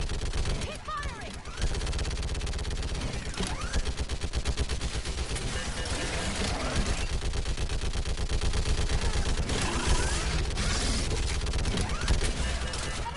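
Dense, sustained automatic gunfire from a firefight in Mass Effect 3 rattles on for the whole stretch after a brief quieter opening, loud and close, with shouted commands mixed in.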